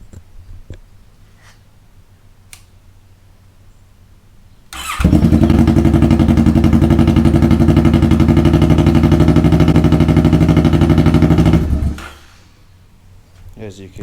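A 2015 Kawasaki Vulcan S with a Two Brothers Comp-S exhaust starts abruptly after quiet handling noises, runs loud and steady for about seven seconds, then shuts off.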